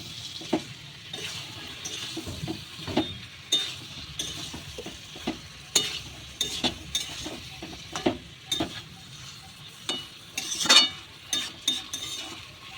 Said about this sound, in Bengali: ভেজে রাখা পটল আলুগুলো এবার আমি দিয়ে দিচ্ছি। মশলাটা আমার কষানো হয়ে গেছে, এবার আমি দিয়ে ভালো করে মিশিয়ে নেব।